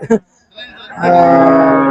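A tall bull at a busy cattle market gives a loud, sustained moo that swells after a short grunt, close and dominant over the background.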